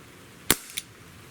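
An Umarex Brodax BB revolver airgun fires a single sharp, close crack, followed a moment later by a fainter metallic impact snap against a quiet background.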